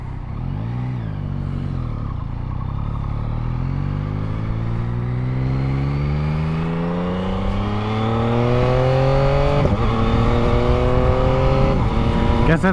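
A 2022 Yamaha MT-09 motorcycle accelerates hard, its engine note climbing steadily through a long rising pull, then a quick-shifter upshift and another rising pull. The sound is loud and close, with no one talking over it.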